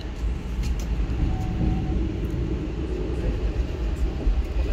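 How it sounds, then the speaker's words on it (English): A California-bound freight stack train led by CN 3000 with UP 6557 and UP 5220 rolls past, a loud steady rumble of wheels and engines with faint rhythmic rail clicks throughout. "Class Unit CN 3000 would lead UP 6557 and UP 5220 on the California-bound stack train."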